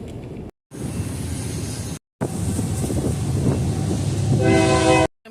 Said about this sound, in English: I'm just waiting and waiting on this long train.